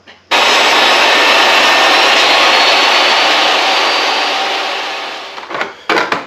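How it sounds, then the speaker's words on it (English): A table saw cutting through a lumber piece for a rustic firewood rack, a loud, steady, broadband whine that starts abruptly, holds for several seconds, fades as the blade spins down, then gives a couple of short clunks. "take it to the table saw and cut that piece out."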